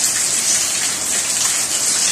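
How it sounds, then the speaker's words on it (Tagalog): Heavy rain pours steadily during a typhoon, a dense continuous hiss of downpour close by behind a house, with no voices. "Lakas ang ulan, no?"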